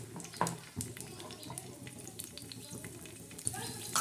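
Green chillies sizzle steadily in hot oil in a pan, a soft crackling fry running throughout with a few sharper spits, while a voice talks faintly in the background.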